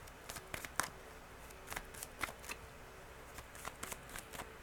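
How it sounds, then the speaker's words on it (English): Tarot cards are shuffled in several quick bursts of soft riffling and flicking, with brief pauses between them, close and fairly quiet. "I'm going to shuffle one more time"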